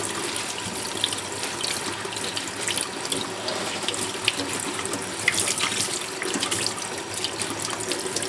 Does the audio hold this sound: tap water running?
yes